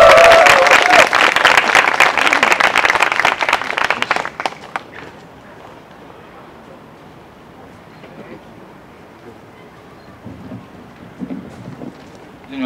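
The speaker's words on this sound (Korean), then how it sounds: "의장님에게 뜨거운 박수 부탁드리겠습니다" Applause at a town hall meeting with youth groups, a loud burst of clapping for about four seconds that then stops, followed by quiet room noise and faint talk.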